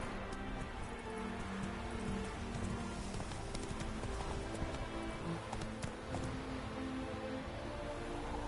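Video game horse Roach trotting, a quick, fairly even clip-clop of hooves over a faint background hiss, with a low musical drone underneath.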